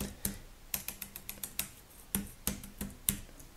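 Computer keyboard typing, a quick run of sharp clicky keystrokes close by, irregular taps with a few louder hits, quiet and without speech.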